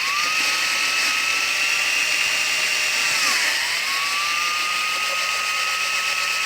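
A power drill bores a hole through an electric guitar body, a loud continuous high whine that dips briefly under load and then recovers, close and alone.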